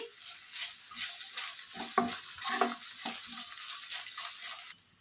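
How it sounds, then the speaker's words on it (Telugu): Ginger-garlic paste fries with lightly browned onions in a pan, giving a steady close sizzle broken by scraping stirs with a spoon, and the sizzle drops away just before the end. "ఆనియన్స్ లైట్గా కలర్ చేంజ్ అయిన వెంటనే అల్లం వెల్లుల్లి పేస్ట్ని వేసుకొని బాగా ఫ్రై చేసుకోవాలి"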